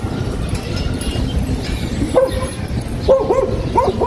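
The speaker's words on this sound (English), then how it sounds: "that's a cute ass dog" A dog gives short yipping barks in a couple of bursts over a busy outdoor background, fairly near and moderately loud.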